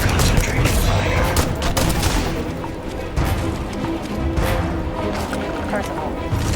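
Sustained gunfire in a sci-fi firefight from the game Starfield, loud, dense bursts and crashes running throughout with speech mixed in.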